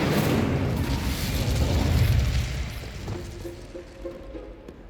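A fire spell cast in the video game Hogwarts Legacy bursts in a loud, sustained booming whoosh that fades over several seconds, with faint tonal game effects chiming near the end.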